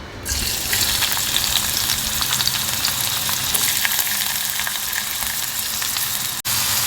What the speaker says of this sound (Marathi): तेल गरम झाल्यावर कांदा टाकायचा आहे